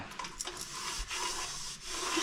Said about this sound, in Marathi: हा आपला कुकर आहे ना तो आपण सुक्या कपड्याने साफ करून घ्यायचा